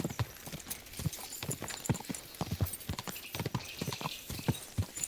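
Rhythmic hoofbeats of a galloping horse in the medieval video game Kingdom Come: Deliverance II pound steadily at close range, a continuous fast clip-clop with no talk over it.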